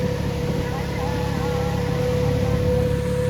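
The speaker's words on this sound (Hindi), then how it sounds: "देखो तीनों ट्रैक्टर चालू हो गई है।" Three 4x4 tractors, a New Holland 3630, an Eicher 557 and a Swaraj 855, run their engines together in a continuous loud diesel drone with steady tonal hum.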